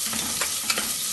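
Crushed garlic, ginger, chopped green chilli and onion sauté in oil while being stirred, a brief, steady frying hiss with a couple of soft scrapes.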